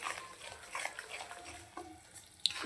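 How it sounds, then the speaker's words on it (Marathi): Besan stirred in plenty of oil in a pan gives off a faint, steady hiss with soft scraping of the spoon along the bottom of the pan and one brief clink near the end, no talking. "तेल थोडं जास्त प्रमाणात टाकून आपल्याला हे मोहन एकदम छान प्रकारे असं तेलामध्ये भाजून घ्यायचं आहे"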